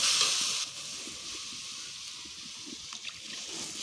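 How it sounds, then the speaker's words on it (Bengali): Fish curry cooks in a pan with a bright, loud hiss at first that soon settles into a quieter, steady simmering sizzle with faint stirring sounds. "এখন এই যে মাছের তরকারিটা হচ্ছে"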